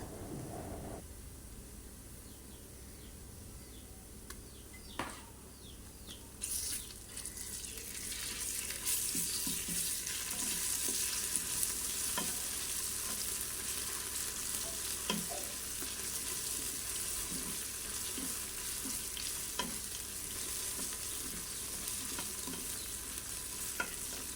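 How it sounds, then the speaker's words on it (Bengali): Ginger garlic paste frying in oil with onions in a pan, a continuous close sizzle with scattered stirring scrapes and clicks, steady throughout and no talking. "আদা রসুনটা সামান্য একটু তেলের সাথে ভেজে"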